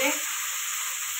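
Red chili powder hits hot oil in a frying pan, giving a steady, bright hiss of sizzling that holds evenly throughout, with no talk.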